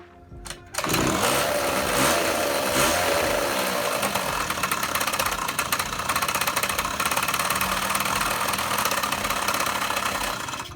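Scooter engine under repair starts after a brief quiet moment and runs steadily and loudly, with a persistent rattling knock and metallic clatter throughout.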